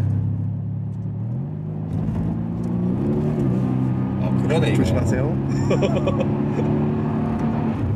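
Mercedes-AMG C63 S Edition 1 engine droning and rising in pitch through gear changes at high RPM, with whirring mechanical noise and people talking briefly over it.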